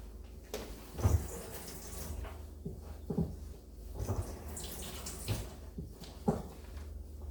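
A kitchen knife, used to cut plantain peel, is rinsed under a running tap, giving a steady low water wash with several brief splashes and clinks from the blade at the sink.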